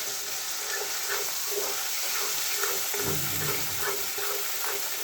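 Masala paste sizzling steadily in hot oil for a Bengali-style pepper fish curry, a dense continuous frying hiss with soft periodic scrapes of a spoon stirring through it, close and even in level.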